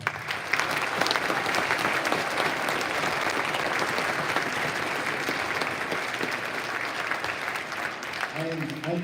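An audience claps for students at a school Veterans Day assembly, a full, sustained round of applause filling the room from start to finish, with a voice briefly heard at the end.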